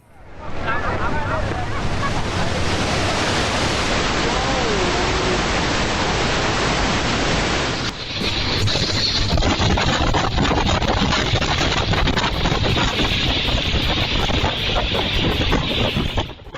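Loud, continuous roar of rushing floodwater strong enough to tear apart a steel bridge, a dense wash of noise with wind buffeting throughout and no pauses.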